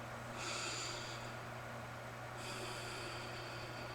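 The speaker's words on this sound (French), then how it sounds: "Puis là, on prend des grandes respirations" Two slow, airy breaths are drawn in and let out against a steady low hum, soft and close, in a quiet room during a children's calming ritual before a poem.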